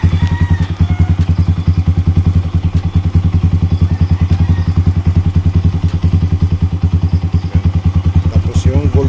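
Kawasaki Rouser motorcycle engine running close by with a loud, steady, rapid thumping beat that rises slightly in pace as it is revved a little, with a voice speaking over it.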